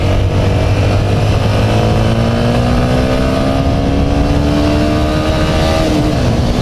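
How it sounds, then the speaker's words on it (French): Yamaha MT15 motorcycle engine accelerating loudly in second gear, a steady rising drone with climbing pitch over constant road and wind noise, close up, with no talking. "Alors c'est une moto qui se conduit à l'oreille, hein, comme toutes les motos."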